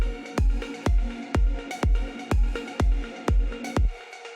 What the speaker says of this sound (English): For the drums, I started with the main kick.